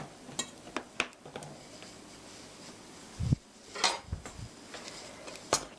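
Egg and olive oil get whisked together in a bowl for a green onion pancake batter, giving a run of close, sharp clinks and taps of utensil against dish, irregular and fairly faint, no talking.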